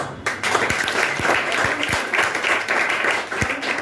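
An audience at a motivational seminar breaks into applause, a full, continuous round of clapping at close range with a few sharper individual claps standing out.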